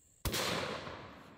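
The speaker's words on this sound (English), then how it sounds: "let's just go ahead and shoot the next one" A single deafening shot from a WW2 Boys anti-tank rifle, one sharp blast that rolls into a long, loud decaying boom, heard alone outdoors.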